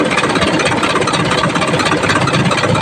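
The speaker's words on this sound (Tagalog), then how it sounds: "Maandar bigla namatay." The Isuzu 4HK1 diesel engine of a truck runs close and loud, a dense, steady rumbling clatter that holds evenly without pauses.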